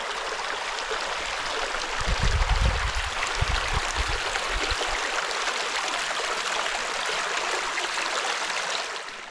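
Serpentine Creek in the Australian bush flows steadily, a constant close rushing and trickling of water with a brief deeper gurgling swell near the start, with no voices.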